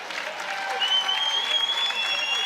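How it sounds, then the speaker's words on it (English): Steady, dense applause from a crowd filling a high school gym during halftime of a boys basketball game on Terry English Court, with a faint whistle-like tone riding over the clapping. "The crowd giving a good"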